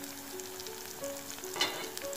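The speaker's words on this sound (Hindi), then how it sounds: "प्याज को तेल में थोड़ी देर पकने देते हैं।" Onions fry in oil with a soft, steady sizzle and a faint clink partway through, close and low in volume, with no talking.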